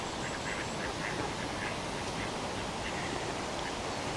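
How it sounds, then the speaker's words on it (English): Ducks quack faintly amid constant outdoor background noise at canal basins on a winter walk, the calls soft and intermittent throughout. "It's so peaceful with the birds singing, the ducks quacking."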